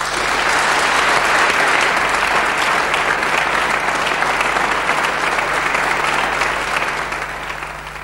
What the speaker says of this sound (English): I'm sure you'd like to give the warmest applause to the other participants that played